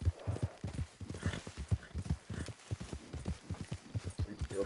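Horse hooves clip-clop in a steady, fairly loud rhythm as a horse moves along in Red Dead Redemption 2, with no talk over it.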